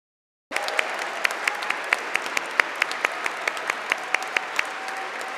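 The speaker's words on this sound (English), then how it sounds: "give our graduation one final round of applause" Sustained applause from the audience at a graduation ceremony, honoring the graduates: dense, steady clapping that starts abruptly after a brief silence and continues at full strength throughout, with sharper individual claps standing out.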